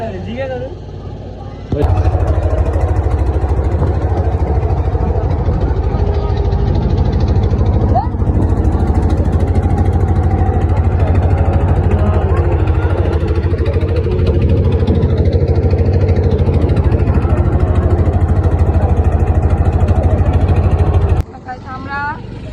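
A slightly faulty river boat engine drones loudly and steadily for most of the stretch, starting and stopping abruptly, with voices talking over the rumble.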